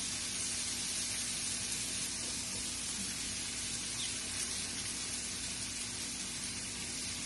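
Shredded sweet potatoes for a hash sizzle in melted butter in a pan, a steady, even crackling hiss that holds at the same level throughout with no voices.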